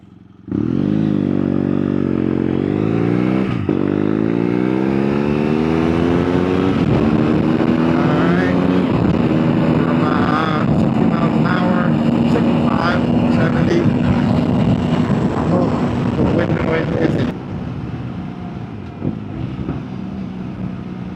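A motorcycle rides on Coast Highway, its engine revving up through the gears to a steady, loud drone at speed with strong wind rush, then easing off near the end.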